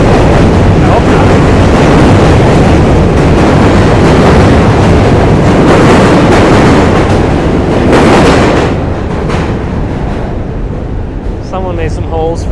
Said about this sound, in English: Another train coming across the other side.